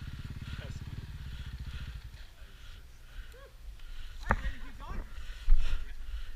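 A Husqvarna dirt bike engine chugs and climbs a rocky horse trail, a low throbbing idle-like beat fading out after a couple of seconds, followed by rocky clatter and thumps while people talk nearby.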